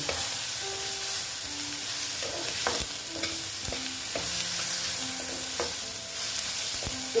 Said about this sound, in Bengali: পেঁয়াজ কলিটা আমি এইভাবে কষিয়ে নিচ্ছি